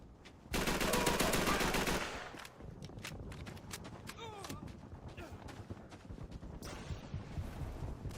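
Machine-gun fire in Call of Duty 3 multiplayer on Xbox 360, with a loud sustained burst of rapid shots at the start, then quieter scattered gunfire and footsteps, and no talking.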